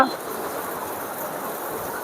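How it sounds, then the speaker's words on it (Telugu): Heavy monsoon rain pours down around a tent where police on duty shelter, a dense, steady hiss of water filling the whole clip without a break. "మరి చూడండి భారీ వర్షం ఎలా పడదు"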